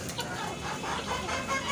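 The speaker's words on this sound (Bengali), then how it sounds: "এই যে এগুলো হলো মিশরি ফার্মি মুরগি" Egyptian Fayoumi hens on a small farm give a steady stream of soft clucks and chatter, moderately close, with no talking over them.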